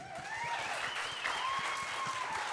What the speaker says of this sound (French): On l'applaudit, c'est cool.